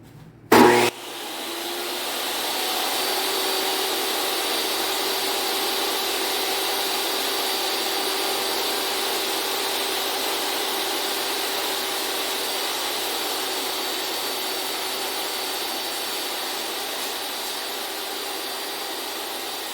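Table saw cutting a wooden board, a sharp clunk at the start, then the blade whines up into a loud, steady whirring hum that runs unbroken to the end.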